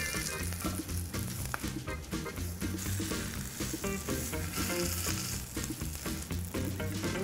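Lightly seasoned tuna sears with a little fat in a hot pan, giving a steady, dense, close sizzle and crackle that runs unbroken with no voices.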